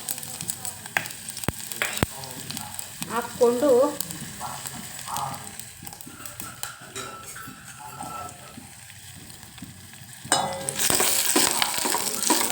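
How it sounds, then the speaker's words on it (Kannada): Tempering spices dropped into hot oil for tomato sambar, crackling and sizzling in a pan with scattered stirring clatter, quiet at first, then a loud, steady hiss near the end; a voice speaks briefly. "ಅದಕ್ಕೆ ನಾವು ರೆಡಿ ಮಾಡಿ ಇಟ್ಕೊಂಡಿರೋ ಒಗ್ಗರಣೆ ಐಟಮ್ಸ್ ಅಷ್ಟು ಹಾಕಬೇಕು"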